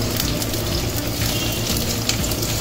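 Large onions tumbling into hot oil for a pepper mutton curry, a steady loud sizzle and crackle with wet, watery hiss filling the whole stretch, no voices over it.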